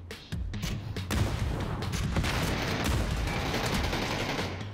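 Rockets launch in a battle video game, a dense burst of blasts and roaring explosions that starts with a sharp hit and keeps rumbling loudly throughout.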